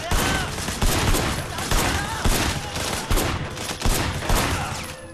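Rapid gunfire in the Sleeping Dogs video game: a dense, loud burst of repeated shots and impacts close by, continuing steadily with no clear talk.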